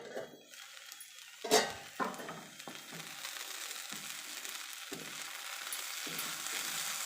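Okra masala fry sizzles in a pan, with a loud clatter as the lid goes on, then steady frying crackle under the cover, marked by regular faint clicks.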